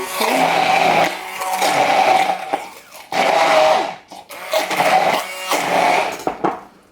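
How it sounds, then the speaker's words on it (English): An immersion blender whirs through soft, mushy bitter melon in several short, loud bursts separated by brief pauses, its motor pitch wavering as it works. "I'm gonna show you what I do with the immersion blender."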